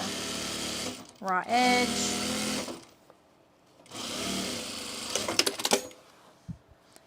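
A sewing machine stitching cargo pants runs in two steady whirring bursts of a couple of seconds each, close by, with a person speaking over and between the runs.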